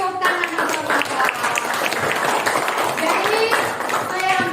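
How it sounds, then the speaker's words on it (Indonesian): Applause from a room of men at a teacher training session, a brisk spatter of many hands clapping at once, with voices talking and calling out over it the whole time. "Oke, tepuk tangan Bapak-bapak."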